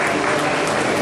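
An audience at a school event in Udupi claps in a dense, steady burst of applause, loud and even throughout.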